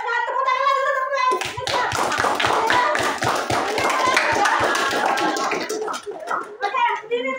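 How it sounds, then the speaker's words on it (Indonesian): Applause fills a classroom, with many hands clapping in a quick, steady rhythm for several seconds, while children's voices chatter over it at the start and end. "Ayo semangat, tepuk tangan dulu"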